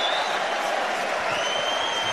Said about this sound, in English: he gets a round of applause as well